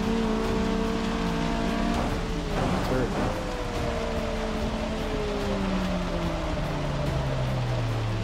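Heavy rain falls during a car race in the video game Forza 6, a constant hiss under engine tones that rise and fall as the car shifts, while someone talks over the race.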